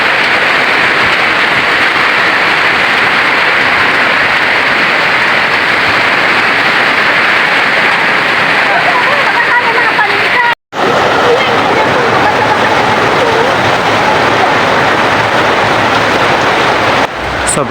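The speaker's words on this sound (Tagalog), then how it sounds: "Sobrang lakas ng ulan guys, parang may bagyo kasi may hangin na kasama." Heavy rain with strong wind during a storm carrying ice pellets, a dense steady roar of downpour and gusts that runs the whole time with a brief dropout midway, while people talk through it.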